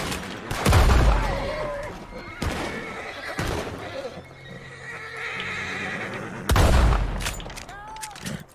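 A horse in the Red Dead video game whinnies loudly several times with hoof clip-clops and distant gunfire around it, and a person speaks over parts of it.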